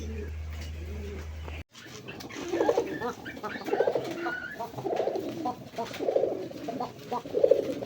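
Pigeons at a pigeon farm coo in a steady series of soft, throaty calls, fairly close, over a low hum of farm background.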